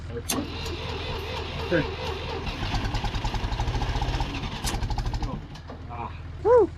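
An abandoned old tractor's engine cranks and catches with a rhythmic chugging pulse, runs briefly, then drops away near the end, while voices are heard at times.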